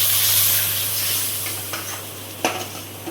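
Poppy seeds go into a sizzling pan for a prawn and arum stem curry, giving a soft, close frying hiss that fades slowly, with a few light stirring scrapes and one sharper utensil knock near the end.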